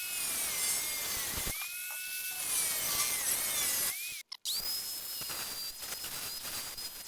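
A high-pitched power cutting tool whines steadily through floor pan sheet metal on a 1971 Chevrolet Nova, pausing briefly twice before the pitch jumps higher and carries on at a constant scream.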